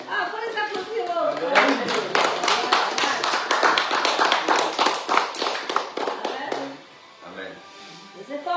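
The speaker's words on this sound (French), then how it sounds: "Ah, il faut les applaudir." A church congregation breaks into applause for the singers, a burst of close, crisp hand claps that builds after a low murmur, holds for about five seconds, then fades into quieter voices.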